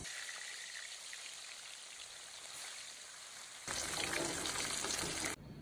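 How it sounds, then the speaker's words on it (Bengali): Fish frying in hot oil in a pan, a steady close sizzle that suddenly grows louder and brighter near the end, with no talking. "দিয়ে দিচ্ছি তেল, দিয়ে দিচ্ছি মাছ।"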